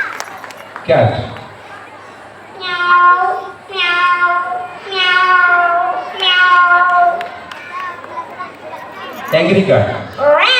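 Four drawn-out, wavering meows voiced by a person imitating a cat, spaced about a second apart, framed by brief spoken words before and after.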